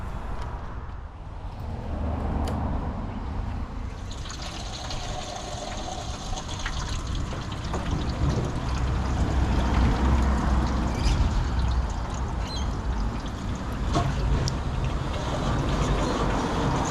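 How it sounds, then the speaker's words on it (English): Water runs and drips through the hose of a cheap, supposedly broken hot-water pressure washer under repair, a steady close splashing wash with no talk. "Let's plug some water into it and see if we can get some water flowing through it."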